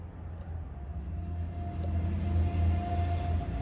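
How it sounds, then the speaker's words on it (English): Road traffic outside makes a steady low rumble with a faint passing hum, swelling slightly toward the end, with no voices. "Sorry about the traffic noise."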